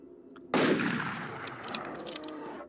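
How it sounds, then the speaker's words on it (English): Two loud close gunshots in the horror game Skinwalker Hunt: Longwind Valley, the first sharp blast ringing out and a second shot following with some echoing tail. "I think it's two shots. Yeah, two shots."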